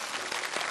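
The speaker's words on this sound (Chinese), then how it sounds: "掌声送给他们。" Audience applause at a televised Chinese award ceremony honouring veterans, a brief, dense wash of clapping heard at a steady level throughout.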